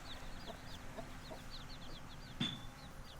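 Soft, repeated gold laced Wyandotte hen clucks and chirpy calls scattered through the clip, with a brief sharper squawk near the end, fairly close over a faint background hum on a homestead.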